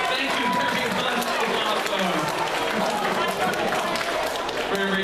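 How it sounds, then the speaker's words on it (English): A school show audience gives a student steady, loud applause. Many hands clap continuously throughout, with crowd noise and some voices mixed in. "Everybody give her a very big round of applause."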